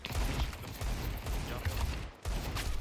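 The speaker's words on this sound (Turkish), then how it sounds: "Al hafif makinalı koştur ateş et kanka. Al P90." P90 submachine gun fire in a shooting video game, dense rapid bursts rattling close and loud with a short gap near the end before firing resumes.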